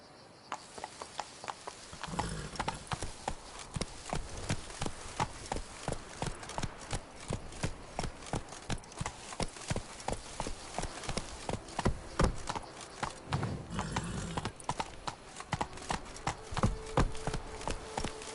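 Roach, the horse in The Witcher 3, gallops with steady rhythmic hoofbeats that continue for a long stretch, clear and close. The thudding clip-clop persists throughout, with faint game ambience beneath.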